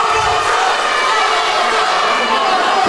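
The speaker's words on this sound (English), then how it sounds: "Listen to this crowd! Crowd is on." Wrestling event crowd cheering inside an arena, a steady loud roar of many voices that holds for the full stretch without a break, with a commentator's voice mixed in.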